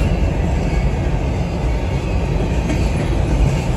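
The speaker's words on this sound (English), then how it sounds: "I can see the train clearly with my own eyes" A CSX grain train rumbles past nearby in Statham, Georgia, a steady, heavy low roar of rolling rail cars that holds constant throughout with no voices.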